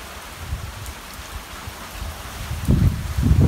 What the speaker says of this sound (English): Now I'm really getting soaked. Starting to get much windier. They're gusty winds.